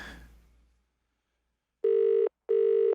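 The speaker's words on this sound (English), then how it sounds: "Your briefcase phone is ringing off the hook." A briefcase phone rings with two loud, steady electronic tones separated by a short gap, following a brief fading noise and then silence.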